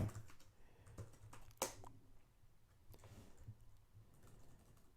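Quiet, close typing on a computer keyboard, an irregular run of soft key clicks with one sharper tap near the start.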